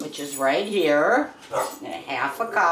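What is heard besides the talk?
dogs barking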